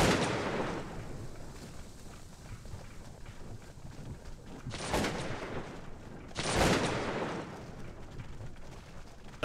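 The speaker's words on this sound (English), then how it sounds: "We are under gunfire." Massed rifle fire from a Cossacks 2 battle keeps up a continuous rough crackle at a distance, with a heavy volley at the opening and two sharp, louder bursts of gunfire later on.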